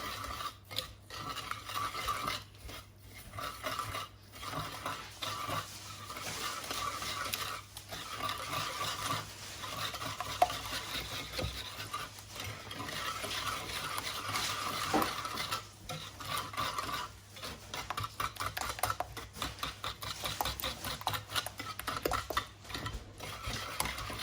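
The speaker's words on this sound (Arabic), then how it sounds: "غادي نحاول نخلط هاد المكونات اللي عندي هنايا لين السكر يذوب" Oil and sugar are mixed by hand in a bowl, giving steady, soft scraping and stirring strokes that repeat in an uneven rhythm for the whole stretch, quiet and close with no talking.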